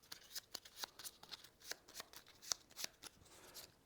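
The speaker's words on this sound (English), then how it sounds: "shuffle those up" Cards from a solo board game are riffled and shuffled by hand in a quiet room, a run of crisp, close flicks and soft snaps in an uneven rhythm.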